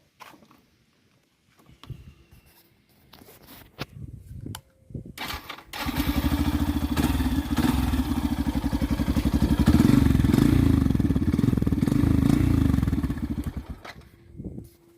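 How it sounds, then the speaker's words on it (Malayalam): A motorcycle starts with a few clattery cranks, then settles into a steady, loud exhaust note that swells and holds before the engine cuts off near the end. "ഇതാണ് ഇതിൻ്റെ എക്സോസ്റ്റ് നോട്ട്."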